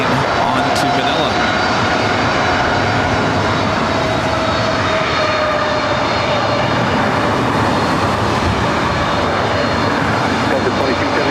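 A Philippine Airlines jet bound for Honolulu and Manila moves at Los Angeles International Airport, making a steady, loud, continuous engine roar and whine throughout, with radio voices faintly under it.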